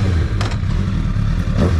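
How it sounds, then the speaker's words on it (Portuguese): A Honda CB1000 motorcycle engine idles in a steady low rumble, with a couple of brief revving bursts and mechanical clatter close by. "Bora ligar a moto aqui."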